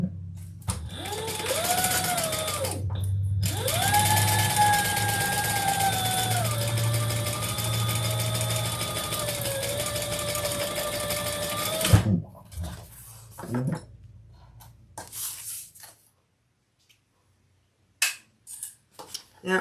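A sewing machine runs steadily for about twelve seconds, stitching a lining seam with a continuous mechanical whir, then stops, followed by a few scattered handling clicks and brief quiet.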